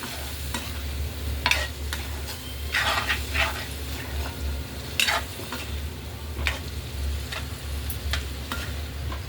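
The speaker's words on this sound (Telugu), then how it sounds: "మంచి స్మూత్గా కలపాలి, లేకపోతే పన్నీర్ అన్నది విరిగిపోతుంది." Paneer and green peas are stirred in a hot pan: a steady sizzle under a low hum, with repeated spatula scrapes and soft knocks at an uneven pace.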